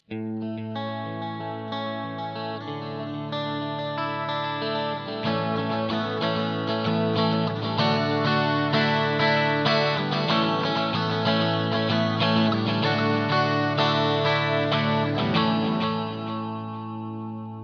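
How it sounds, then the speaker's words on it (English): Clean electric guitar, a Stratocaster through a Boss GT-1 clean preamp with shimmering chorus and dotted eighth delay echoes, playing a continuous ringing chord pattern for nearly twenty seconds, full and steady without any voices. "we just have a straight up clean preamp going with the chorus and the delays that we need"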